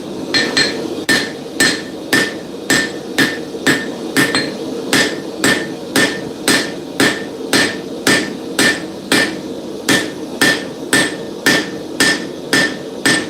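A steel chef's knife blade is hammer forged on an anvil, with sharp metallic blows ringing out alone in a steady, evenly spaced rhythm, roughly two strikes per second, close and loud throughout.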